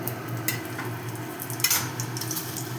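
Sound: bay leaves sizzling in hot oil in a kadai

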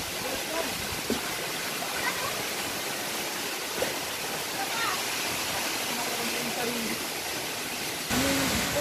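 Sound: Hulugan waterfall rushing water

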